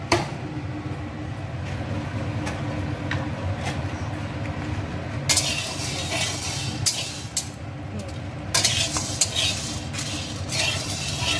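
Whole dried red chillies fry in hot oil in a pan for a desi chicken curry, giving a steady close sizzling hiss with occasional louder scraping bursts as they are stirred.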